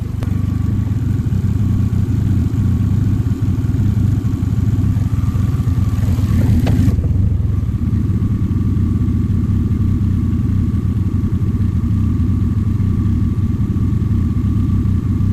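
Vauxhall Corsa engine idling with no exhaust fitted, a steady loud low rumble running the whole time with a brief higher clatter near the middle, no voices.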